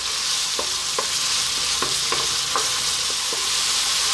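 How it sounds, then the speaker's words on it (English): Chopped garlic sizzles steadily in a hot pan for a vegetable tomato pasta, with a continuous bright hiss broken by several soft scrapes and taps as it is stirred around every half second or so. "You can also now add our garlic, that tablespoon of garlic. 3 minutes, keep it moving."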